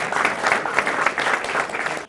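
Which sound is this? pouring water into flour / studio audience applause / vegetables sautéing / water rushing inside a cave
studio audience applause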